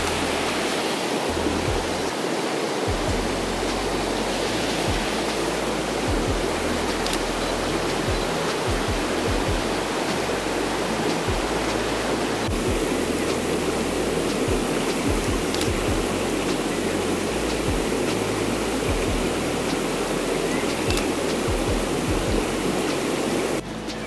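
A stream at a nature reserve rushing steadily, a dense, even wash of flowing water that holds the same level throughout, close and loud, no voices.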